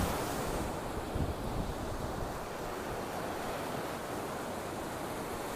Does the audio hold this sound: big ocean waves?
yes